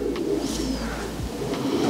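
Racing pigeons coo softly and steadily inside a loft, a low throaty murmur running throughout with a faint higher chirp.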